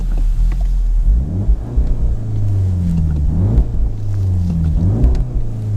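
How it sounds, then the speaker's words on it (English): A VW Golf R with an Akrapovic exhaust revs repeatedly in neutral while stationary, rising and falling in pitch through a deep, rumbling exhaust, loud and close. "I'll put it into neutral and rev it a bit."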